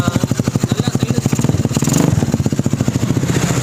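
Small kids' motorbike engine revving up close, a rapid loud putter of firing pulses that rises in pitch and intensity midway, then settles back to a fast steady chug.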